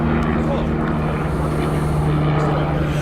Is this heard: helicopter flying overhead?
yes